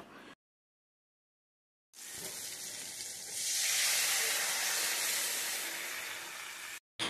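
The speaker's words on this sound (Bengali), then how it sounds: "তো ডালটি এখানে সম্বার দিয়ে দিলাম।" Boiled lentils (dal) being tempered with hot spices burst into a loud, close sizzling hiss after a silent pause, swelling then holding steady for about five seconds before cutting off abruptly.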